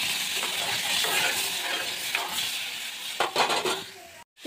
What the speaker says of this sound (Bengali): ওই যে চানার ডালটা আমার ভাজা হয়ে গিয়েছে, এটা আমি এখন ভালো করে ধুয়ে নেব।